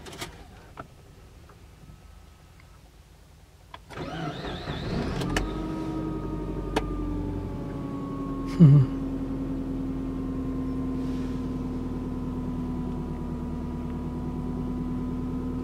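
A Subaru Forester engine cranks briefly and catches, then settles into a steady, even idle hum heard up close for the rest of the time, with a short sharp knock partway through.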